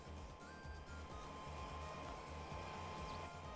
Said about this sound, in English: Someone's left their hairdryer on.